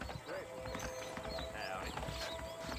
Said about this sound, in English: Subir pro meu cavalo.